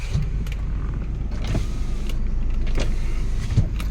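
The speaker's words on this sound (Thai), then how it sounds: "กระจกไฟฟ้าทั้ง 4 บานนะครับ ใช้งานได้ครบหมดนะครับ" Power window motors in a 2007 Isuzu Adventure whir steadily inside the car cabin, a continuous close electric hum with a few brief clicks, and no talking.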